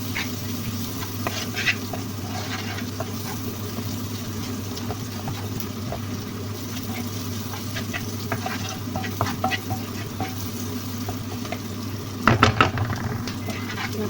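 Minced beef sizzles steadily in a pan as it is stirred, with continuous frying crackle and occasional scraping and clatter, loud and close, no voices.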